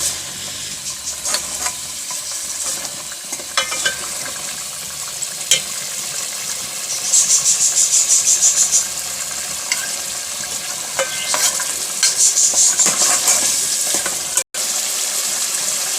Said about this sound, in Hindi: अब इसको 5 मिनट तक भून लेते हैं